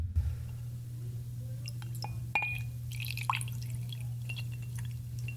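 Whiskey poured over small stones of ice in a glass: a few light clinks and trickling drips over a steady low hum, close and quiet, without talk.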